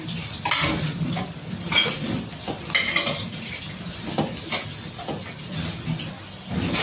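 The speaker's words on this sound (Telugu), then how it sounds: "లైట్గా మిక్స్ చేస్తున్నాము" Light stirring in a pan of coriander and garlic for a spicy egg dish: uneven scrapes and metallic clinks of a spoon against the pan under a soft background sizzle.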